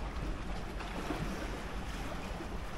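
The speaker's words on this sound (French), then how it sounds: "Et là, on a le bruit des vagues." Sea waves washing along the shore at Trieste, Italy, a steady broadband wash of surf with some wind rumble on the microphone, continuous and moderately loud with no one talking.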